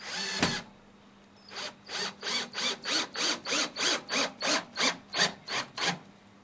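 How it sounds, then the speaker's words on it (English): A sharp knock sounds, then a drill drives screws into pre-drilled holes in wood for a beehive build, a run of about a dozen rhythmic rasping pulses, close and clear with no talk. "drill them down"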